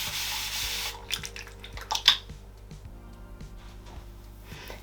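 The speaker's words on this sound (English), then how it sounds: "Mixing it with water in my hands to help distribute." Styling gel mixed with water is worked between wet hands, giving soft, close squelching rubs with a few sharper wet slaps partway through and a steady low hum underneath.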